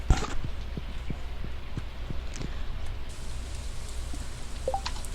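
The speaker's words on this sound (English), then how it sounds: "Now that it's raining, our chickens are staying inside" Rain falling in the video game Stardew Valley, a continuous soft patter with scattered light taps and clicking steps over it, no talking.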